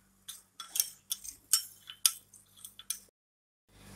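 A spoon stirring sugar water clinks and scrapes rhythmically against a glass, about a dozen bright metallic taps over three seconds, then stops.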